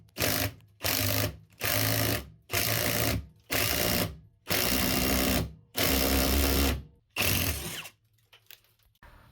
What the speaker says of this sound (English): I'm going to have to drill some holes.